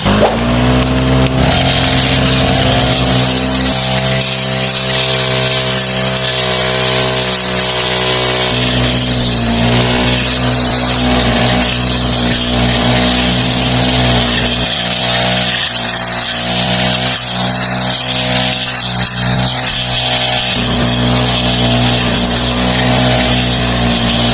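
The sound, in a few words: gasoline grass cutter engine running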